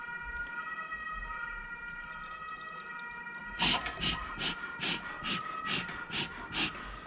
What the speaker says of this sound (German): wenn übrigens immer in meinen Videos irgendwie Krankenwagen und Polizei da vorbeifährt